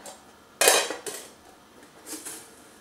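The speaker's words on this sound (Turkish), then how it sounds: "Alt kısmı piştikten sonra şimdi ters çevireceğim." Künefe is flipped over in a pan with a sharp metallic clatter, followed by a few softer knocks and scrapes of the pan and utensil, close and brief, with no talk.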